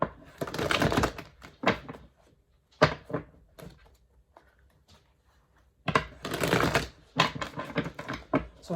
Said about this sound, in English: So I get carried away with my shuffling sometimes.